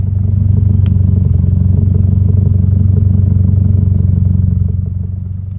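A warmed-up 2022 Subaru WRX fitted with an ETS axleback exhaust idles close by with a deep, steady, loud rumble that eases slightly near the end.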